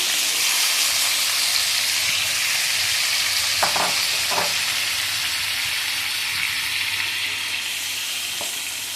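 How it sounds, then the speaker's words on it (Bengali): Vegetables and chilies fry in a hot pan with a steady, loud sizzle and hiss, a few brief stirring scrapes breaking through midway, all close and continuous. "এখন সবজিটা আমি একটু ফ্রাই করে নেব হালকা চালো চালো ফ্রাই মরিচ দিয়ে দিলাম"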